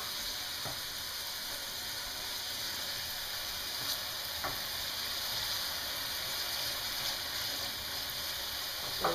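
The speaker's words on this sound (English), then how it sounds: "I'll put it in a colander and I'll rinse it under really hot water to get all that starch off." Cooked pasta being rinsed in a colander under very hot running tap water, a steady loud hiss of pouring water with faint clinks throughout, no voices.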